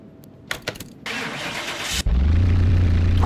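A Jeep Willys military engine in Car Mechanic Simulator 21 cranks with a couple of loud clicks and starter whir, then catches at once and settles into a steady, close, low rumbling idle.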